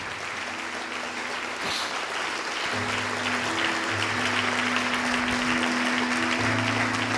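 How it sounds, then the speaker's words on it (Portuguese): A church congregation applauds in a steady, thick wash of clapping, with sustained keyboard or organ tones entering underneath partway through. "Vem aqui para frente e vamos aplaudir ao nome do Senhor, igreja"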